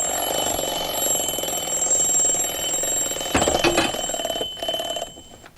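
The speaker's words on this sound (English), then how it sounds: "Instead of that annoying alarm sound" An alarm clock rings in a continuous shrill electronic tone, loud and steady before breaking up and fading toward the end, with no voices.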